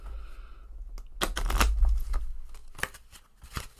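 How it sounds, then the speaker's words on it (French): Playing cards are shuffled by hand in a few quick, crisp riffling bursts, close and fairly quiet, with short pauses between them. "Mais je crois que vous devriez pouvoir entendre le fait que je mélange mes cartes."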